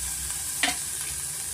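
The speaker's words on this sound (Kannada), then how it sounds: "ಈರುಳ್ಳಿ ನಾನು ತುಂಬ ಏನು ಫ್ರೈ ಮಾಡ್ಕೊಳಲ್ಲ, ಮುಕ್ಕಾಲು ಭಾಗ ಫ್ರೈ ಆದರೆ ಸಾಕು." Onions sizzle quietly in hot oil with a soft constant hiss, broken by one brief scrape of stirring midway, cooked only about three-quarters of the way for an instant white aloo pulao; no talk.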